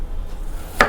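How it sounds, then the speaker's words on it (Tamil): A kitchen knife makes a single sharp chop through small onions (shallots) on a board, close by, during preparation of a mutton bone curry, with faint room hiss before it. "சின்ன வெங்காயத்தை ஃபஸ்ட்டு இப்படி குறுக்கு நறுக்கிட்டு பாதி எடுத்து"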